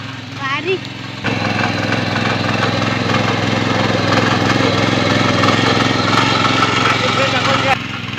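A brief voice, then a tractor engine roars up close and runs at a loud, steady drone before dropping off near the end, during field ploughing in Konkan.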